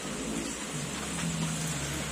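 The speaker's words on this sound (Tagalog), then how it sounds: "Maulan pa rin." Steady rain falls through a rainy-season day, a dense continuous hiss of drops pattering on surfaces, with a low rumble underneath, fairly loud and unbroken throughout, with no voices.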